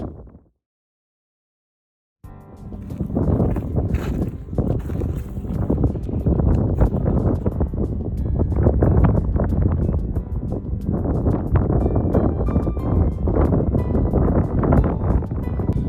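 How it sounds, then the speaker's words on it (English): Strong, ice-cold wind blows across open countryside, buffeting the microphone in loud continuous roaring gusts after a brief moment of near silence at the start. "It is ice cold because the wind is blowing and blowing and blowing"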